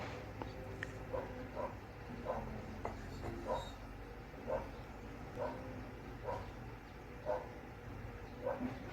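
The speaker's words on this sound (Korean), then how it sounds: "공사하는 포크레인 보고 짓는 걸 겁니다." A dog barks outside at a working excavator, sharp single barks repeating at roughly one-second intervals, somewhat distant and muffled as if heard through a door.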